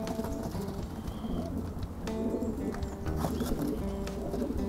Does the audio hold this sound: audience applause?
no